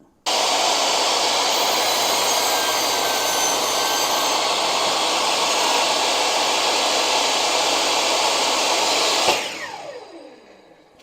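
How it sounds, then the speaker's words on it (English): A table saw makes a bevel cross cut through a board, its blade roaring loud and steady for about nine seconds before the motor stops and the blade whines down to silence. "So this is just a bevel cross cut."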